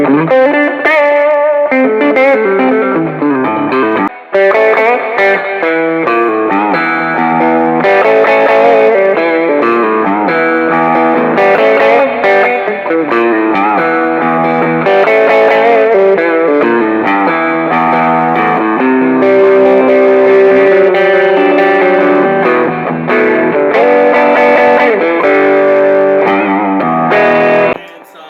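Yamaha Revstar electric guitar on the middle pickup with moderate overdrive, playing a continuous run of chords and riffs, crunchy and close, with one brief gap early on.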